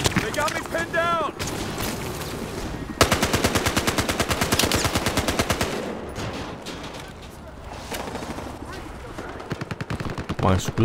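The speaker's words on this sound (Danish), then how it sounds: "Mange skud har jeg at gøre med." Machine guns in the Battlefield Hardline shooter game rattle in long, rapid bursts of close, loud automatic fire. Scattered shots and game voices sit in between the bursts.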